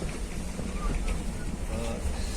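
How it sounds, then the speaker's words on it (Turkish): Steady wind rushing and buffeting against the microphone in Sarıkamış, a continuous low roar throughout, with faint voices underneath. "Rüzgar."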